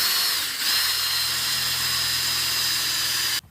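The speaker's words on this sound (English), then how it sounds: "So what we're going to do is come over 3/4 of an inch from the original hole and just drill a hole right there." A power drill boring a hole through a Jeep track bar whines steadily at high pitch for about three seconds, briefly dipping early on, then cutting off abruptly.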